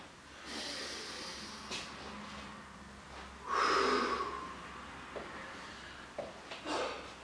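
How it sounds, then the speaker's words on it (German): Heavy breathing during a rest pause in a workout of squats with shoulder presses, planks and dips: several loud snorting exhales and hissing breaths at irregular intervals, close to the microphone, with no speech. "Tief atmen."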